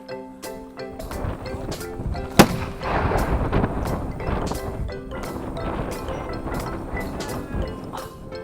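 Gunshots ring out during a rabbit hunt outdoors, with one sharp loud report followed by a rough rumbling and clattering background of movement and wind.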